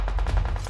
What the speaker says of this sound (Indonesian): Ni MP5 kan? Ni senjata baru kan?